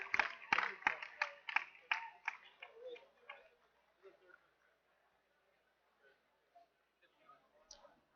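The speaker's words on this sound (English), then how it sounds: "they deserve an even bigger round of applause" An audience at an educational robotics conference claps, a quick burst of applause that thins to scattered claps and fades to near silence, then a few faint taps.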